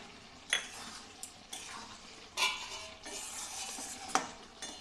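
Soya chunks being stirred with meat masala in a pan: close, soft scraping and clinking of a spoon against the pan at irregular intervals over a faint steady sizzle, with no voices.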